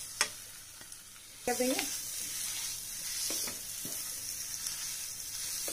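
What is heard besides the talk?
mashed potato and masala frying and stirring in a pan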